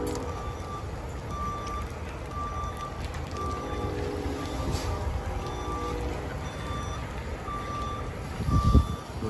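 Truck with trailer reversing into a numbered spot, its reversing alarm beeping at a regular rhythm over a steady engine rumble, with a brief louder burst of mechanical noise near the end.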